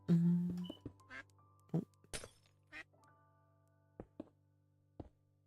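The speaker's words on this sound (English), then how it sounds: "Right, ducks, can you leave me alone?" Ducks in a Minecraft world running the Fossils & Archeology mod, giving a handful of short, sharp quacks and thunks spaced across a few seconds over a steady low game hum.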